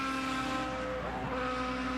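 IndyCar racing engine on track at the 2009 Japan 300 qualifying, a loud sustained high-pitched drone that dips briefly in pitch midway as the driver lifts off the throttle, then holds steady again.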